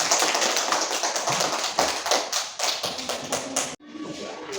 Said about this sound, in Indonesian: Beri tepuk tangan dong Niko.